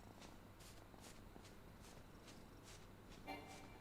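Cat purring steadily and softly in a quiet indoor room, a low continuous rumble with faint rhythmic pulses, plus light shuffling movement nearby.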